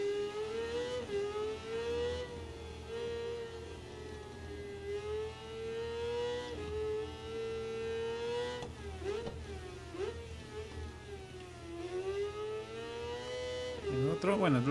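A 2019 Kawasaki Ninja ZX-6R in the racing game Ride 4 at Interlagos, its engine a steady high whine that rises and falls with gear changes and throttle, running continuously at moderate volume.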